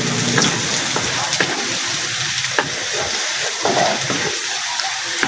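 Garlic frying in butter in a pan for squid adobo, a loud, dense continuous sizzle close by with faint stirring scrapes and no speech.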